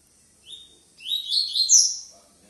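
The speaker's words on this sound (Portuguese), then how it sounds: "Sentindo que ele tá cantando mais fibrado, não tá revoando a gaiola." A caged coleiro, or double-collared seedeater, sings a short, bright burst of high whistled and twittering notes close up against a quiet background.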